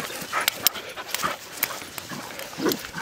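A dog on the ground outdoors at a farm pants, whimpers and yips, with several sharp close yelps over a steady breathy noise.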